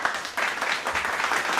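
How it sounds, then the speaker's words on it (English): A round of applause, a short burst of dense clapping that swells after a brief pause and holds steady to the end. "How about this round of applause?"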